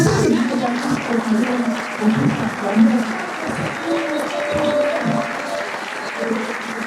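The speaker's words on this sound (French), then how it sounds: "vous acclamez comme si on vous demandait quelque chose de grave" A church congregation applauds and cheers through a service, steady clapping filling the room throughout with voices mixed in.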